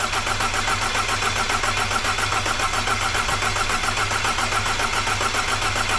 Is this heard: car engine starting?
yes